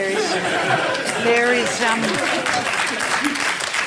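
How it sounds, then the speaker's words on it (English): Thin, scattered applause comes from an audience at a question-and-answer session, mixed with chatter and a few chuckles, and voices talk over it the whole time. "Scant applause for a cheap point."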